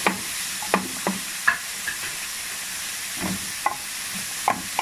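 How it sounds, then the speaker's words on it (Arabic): Carrots and small broccoli pieces being sautéed in a pan on a gas stove, with a steady faint sizzle and repeated sharp scrapes and clanks of a utensil stirring, no voices. "اديله تشريحة كده عشان الجزر يتشوح شوية."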